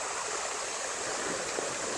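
A rocky stream swollen after a night of rain, water rushing and splashing over stones in a steady, full, continuous roar close by, with no voices.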